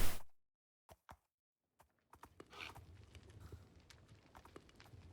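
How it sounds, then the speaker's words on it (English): Hooves clip-clop as a horse is ridden in Minecraft survival mode, a few sparse isolated knocks at first, then a quicker, busier patter of steps, all fairly quiet. "Really, you just drive the horse around."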